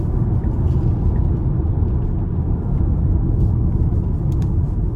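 Cabin of a 2022 Tesla Model Y Long Range pulling onto the interstate, a loud, steady low road and wind rumble with no talking.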